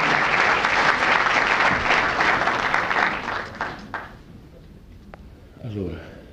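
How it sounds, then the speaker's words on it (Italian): An audience at a faith and forgiveness gathering gives sustained applause that fades out after a few seconds, followed by a voice starting to speak. "facciamo un applauso a tutti noi."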